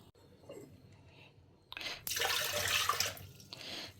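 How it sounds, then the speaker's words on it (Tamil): Tap water runs in a kitchen while vegetables are rinsed, starting faint and then gushing into a loud, steady splash for the last two seconds, close by with no talk. "இதை இப்போ ஒரு லைட்டாக அலம்பிட்டு பொள்ளங்காயை இதோட சேர்த்துக்கலாம்"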